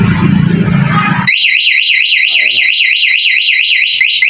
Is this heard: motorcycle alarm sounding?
yes